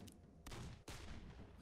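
Gunfire in a video game, a quick volley of shots: a burst near the start, a heavier blast around the middle and another sharp report soon after, each trailing into a dense, sustained rumble.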